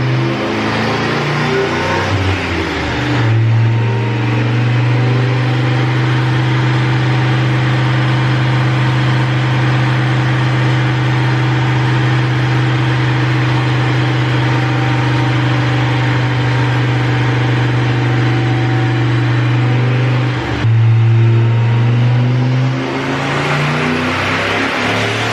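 An Oldsmobile F85 with a turbocharged LS engine swap runs hard on a dyno, a loud steady high-rpm drone held for around seventeen seconds between rev changes at the start and end, with no voices.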